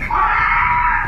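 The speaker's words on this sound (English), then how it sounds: "Stepfather screamed after seeing his wife's body." A man screams after finding his wife's body: one loud, sustained, strained cry, close to the listener and held for about a second with no break.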